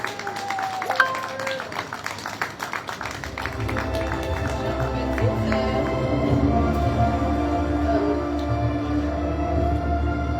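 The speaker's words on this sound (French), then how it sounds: "sous vos applaudissements" Audience applause at a community conference evening in Le Carbet, a sustained crowd clapping that builds after a brief moment of music and then holds steady and fairly loud.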